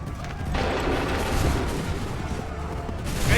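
Musket volleys crack out in an Assassin's Creed III battle, a dense, continuous roll of gunfire and booming blasts filling the scene, loud and close, without any clear pauses between shots.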